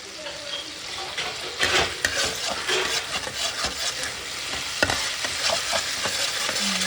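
Curry leaves and pomfret fish spice paste fry in a pan, a steady close sizzle with scraping stirs and occasional sharp pops throughout.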